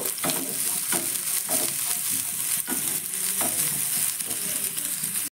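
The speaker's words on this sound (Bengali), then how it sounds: "সবার প্রথমে দিয়ে দিচ্ছি আমি কোচানো পেঁয়াজ। পেঁয়াজটা সবার প্রথমে হালকা করে একটু ভেজে নেব।" Chopped onion hits hot oil and fries with a close, continuous sizzle, broken by rhythmic scraping strokes of a spatula stirring the pan at roughly one-second intervals; no talking.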